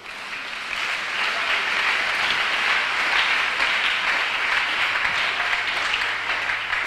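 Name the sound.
congregation applauding in church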